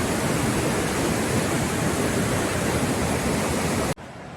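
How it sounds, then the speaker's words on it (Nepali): Khutkhute waterfall on the North ABC trek in Nepal, a dense, even roar of rushing water that holds steady throughout and then cuts off abruptly near the end. "यो हामी छौँ खुतखुते झरना, नर्थ एबिसीको प्रसिद्ध झरना रहेको छ"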